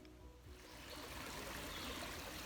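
Small woodland creek flowing along a hiking trail beside a footbridge, a steady broadband rush and trickle of water that swells slightly and holds constant, close by with no voices.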